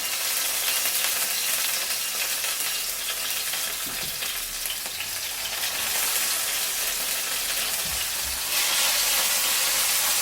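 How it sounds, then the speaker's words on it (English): Tomatoes sizzling in hot oil in a pan for pasta e fagioli, a steady, bright crackling hiss that stays loud and continuous, with a couple of faint clanks of a utensil. "And then I'm gonna add the tomatoes and lower down the temperature."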